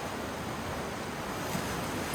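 Continuous roar of ocean surf beside a coastal walking path on Ulleungdo island, broad and steady with heavy wind noise mixed in and no voices.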